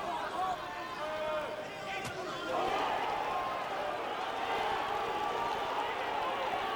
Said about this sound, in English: The crowd making a lot of noise by that, because of that flurry by Czyz